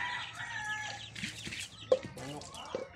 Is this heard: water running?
no